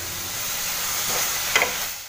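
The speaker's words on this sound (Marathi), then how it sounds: "तेल सुटेपर्यंत सगळं व्यवस्थित परतून घ्यायचं" Tomatoes sautéing in oil in a kadhai make a steady, close hiss of frying, with a brief brighter stirring scrape near the end before it cuts off.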